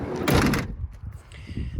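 A minivan's sliding side door rolls open with a quick loud scrape and thud, followed by quieter knocks and soft movement.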